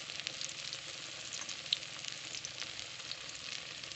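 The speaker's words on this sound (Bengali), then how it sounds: "এবারে আমি তেলের মধ্যে দিয়ে দেব" Soaked snack pieces frying in hot oil in a home kitchen, a steady close sizzle and crackle with small pops throughout, no talking.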